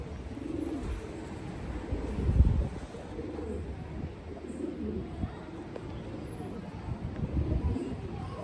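Pigeons softly cooing in a loft, low murmuring calls under a steady background hum, with occasional louder coos rising briefly.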